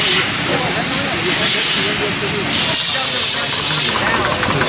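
Steady broadband hiss of a steam engine powering an ice cream maker close by at a steam and engine show, loud and continuous, with a low mechanical rumble and chatter of people underneath.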